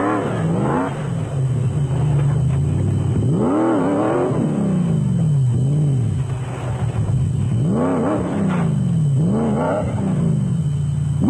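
A Jimco off-road race truck engine at the Sun City off-road race in South Africa revs up and down repeatedly, loud rising and falling roars close by in several bursts.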